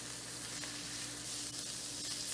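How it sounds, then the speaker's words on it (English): Grated carrot stir-frying in a hot wok, a steady close sizzle with soft scraping of the stirring, no talking over it. "Right now we're going to add in our grated carrot. Just give this a stir."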